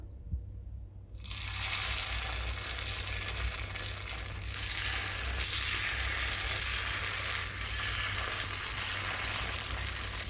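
Chettinad seeyam batter cooking with sesame oil in a paniyaram pan, a hiss that starts abruptly after a quiet second and builds into a steady, close sizzle, with a low hum beneath.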